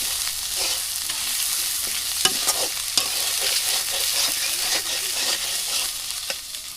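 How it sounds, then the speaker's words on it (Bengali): Onions with bay leaf and salt fry in a pan while a spoon stirs them, giving a close, continuous sizzle broken by repeated scraping and clinking strokes, with no voices. "এবং পেঁয়াজের মধ্যে সব কিছু নাড়াচাড়া করে নেই"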